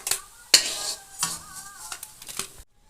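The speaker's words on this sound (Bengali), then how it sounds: "এবার আমি বড়াগুলো তুলে নিচ্ছি।" Pointed gourd peel fritters are lifted from a frying pan with a metal utensil, giving several sharp clinks and scrapes against the pan over a soft background sizzle.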